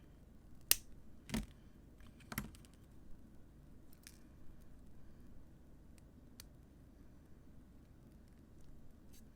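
Wire cutters snip through bracelet wire in a quiet room, giving a few sharp, isolated clicks close to the listener, followed by fainter scattered small clicks and handling sounds.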